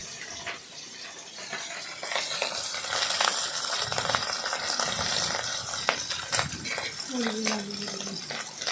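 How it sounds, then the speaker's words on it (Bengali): Hilsa fish pieces rubbed with salt and turmeric fry in hot oil in a wok, giving a steady crackling sizzle with scattered spatters and clinks that grows slightly louder partway through. "কড়াইতে তেল দিয়ে মাছগুলোকে ভালো করে ভেজে নিলাম"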